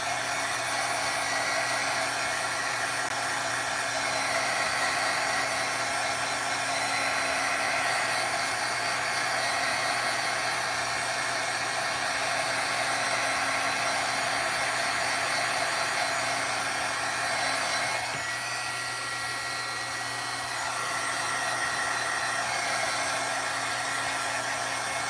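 Heat tool drying Distress Oxide ink, a loud continuous blowing whir held steady for the full stretch with a slight dip in level near the end, no talk.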